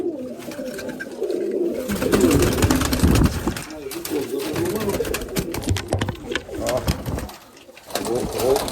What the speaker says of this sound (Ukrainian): Це голубка, так? Ні, це голубка.